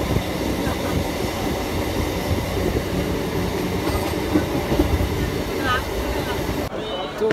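Inside a moving passenger train, a loud continuous rumble and rattle of wheels on track fills the space, with faint squeals and background voices over it.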